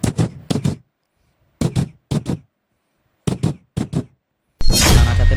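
A boy imitates a train rolling over a double rail joint, making sharp vocal clacks in quick groups of two and three, separated by silent gaps, followed by a burst of noisy rustling.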